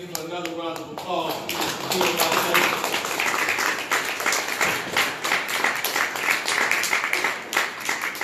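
Audience applause at a campaign fundraiser event, dense continuous clapping that builds after a brief spoken opening and holds steady to the end.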